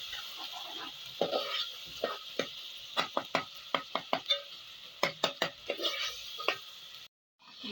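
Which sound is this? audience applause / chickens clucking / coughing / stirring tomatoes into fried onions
stirring tomatoes into fried onions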